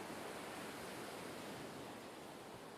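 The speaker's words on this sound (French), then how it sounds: "Prenez un instant pour écouter le bruit des vagues," Ocean waves wash continuously in a soft, even hiss, faint and steady with no distinct breaks and no voices.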